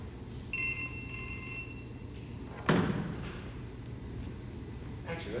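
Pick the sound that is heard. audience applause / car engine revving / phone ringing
phone ringing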